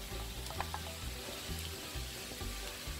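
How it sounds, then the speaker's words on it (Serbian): Sliced fresh mushrooms and a small onion sizzle in oil in a frying pan, a soft steady crackle with faint clinks of stirring, heard close and alone without speech. "I ovo ne treba puno nešto pržiti, koliko samo da poprime fino miris i da nam samo malo pečurke omekšaju."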